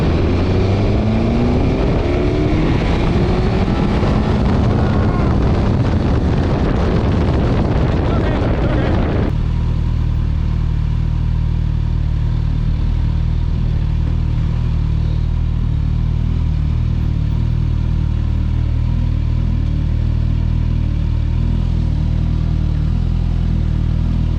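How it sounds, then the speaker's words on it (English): A Suzuki GSX-S1000GT motorcycle in third gear pulls hard under full throttle from about 25 mph. The engine note rises loud and rough over heavy wind roar, then the revs drop away and steady wind noise takes over. "So from 25 miles an hour, full throttle."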